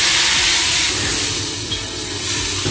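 Tomatoes dropped into hot oil already sizzling with ginger and garlic in a wok, a loud steady hiss of frying filling the whole stretch, close and continuous with no talk.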